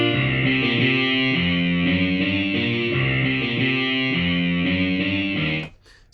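A distorted lead guitar plays a repeating rock riff over power-chord rhythm guitar and acoustic backing, loud and full for over five seconds before cutting off abruptly.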